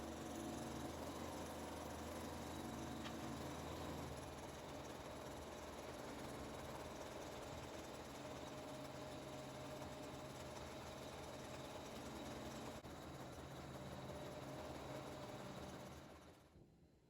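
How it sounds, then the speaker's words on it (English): An embroidery machine sews a satin stitch around a salad plate design on a placemat, a steady continuous mechanical hum and whir that runs unbroken for about sixteen seconds before cutting off. "the machine will do a satin stitch around the salad plate"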